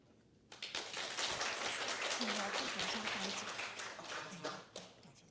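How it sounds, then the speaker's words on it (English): A lecture audience bursts into sustained applause after a speech at a talk on inclusive EMI classrooms, dense clapping starting abruptly and holding loud for several seconds before thinning slightly toward the end. "let's give a warm applause again to thank Dr. Ching for his wonderful speech"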